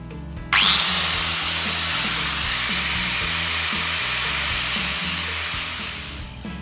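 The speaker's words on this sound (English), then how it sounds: "So we've got to trim the bolt to size." A power tool grinds down a Hobie Cat mast spanner bolt to size, starting abruptly and holding a loud, steady high-pitched whine with a rumbling motor underneath for several seconds before easing off at the end.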